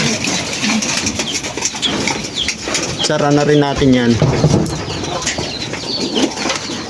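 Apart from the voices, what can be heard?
pigeons cooing and flapping wings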